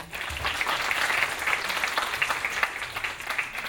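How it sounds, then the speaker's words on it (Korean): Audience at a tech forum applauding a presenter, a steady, moderately faint wash of clapping lasting the whole stretch with no clear voices. "저희 그 CTO 분께 다시 한번 큰 박수 부탁드리겠습니다"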